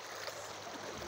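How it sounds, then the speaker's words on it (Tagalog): Strong current of a rocky stream in Isabela province, Philippines, rushing past at close range as a steady, dense wash of water noise with no pauses. "Oh, ang lakas ng agos ng tubig dito."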